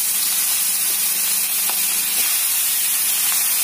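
Fish heads go into a hot wok of oil with two dried red chilies and a little cumin, giving a steady, loud, broadband frying hiss with faint crackles throughout, no voices.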